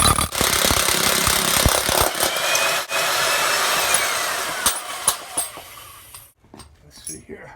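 A loud percussive rock drill hammers continuously up close, boring holes in a boulder, with sharp knocks and grinding, then stops and leaves quieter clattering at the end.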